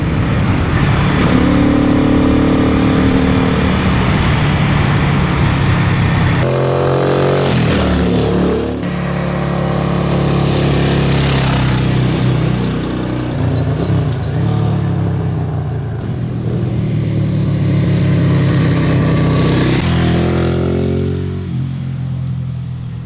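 A Moto Morini 3 1/2 air-cooled V-twin motorcycle engine with loud, close induction roar, running steadily with throttle swells and revving pitch changes throughout.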